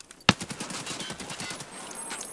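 An AK-103 rifle fires from the shoulder in the Escape From Tarkov video game, one sharp loud report followed by a rapid burst of automatic shots that fades over about two seconds.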